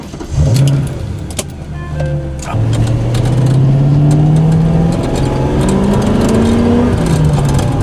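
Modded Toyota Supra engine growls loudly, blipping at first, then pulling through long climbing revs with shifts between them and a faint clicking overhead, close and strong with no voices.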